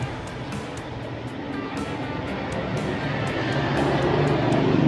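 Small cooling fans in a Class D power amplifier whir loudly in a steady, slightly rising hum with a faint rhythmic ticking on top, no voices.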